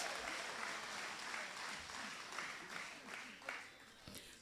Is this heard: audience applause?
yes